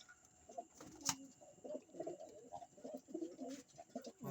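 Pigeons in their loft at night coo softly, one guarding its nest, with low, faint murmuring coos repeating irregularly against a quiet background.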